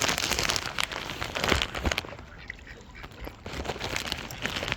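Ducks on a mill lake crowd in as they are fed, with a continuous busy outdoor wash of splashing and quacking, fairly close and steady.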